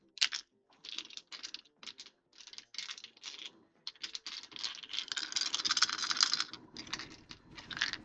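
Folk Art acrylic paint bottles are handled and knocked together, making quiet, close bursts of rapid plastic clacking and rattling in short clusters, with no voices.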